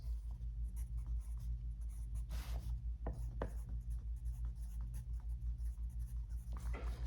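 Pencil scratching across paper while working out a proportion problem, steady close scribbling strokes with a few sharper taps, over a constant low hum.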